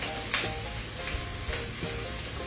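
Food sizzles steadily in a pan with salt and pepper added, a continuous frying hiss broken by a few louder scrapes and bursts as it is stirred, close and without talk.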